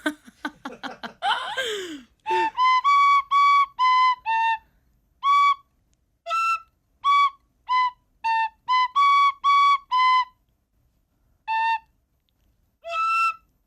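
A tin whistle plays a halting tune of short, bright notes separated by pauses, loud and close, with a brief burst of laughter at the start.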